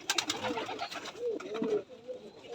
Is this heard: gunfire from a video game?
no